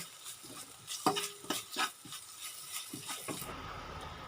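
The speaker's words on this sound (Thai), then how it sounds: "ลงไปผัดให้น้ำพริกแกงหอม" Thai curry paste stir-fried in a pan for a catfish jungle curry, a quiet sizzle under a run of quick scraping and tapping strokes of a spatula that fades into a softer hiss.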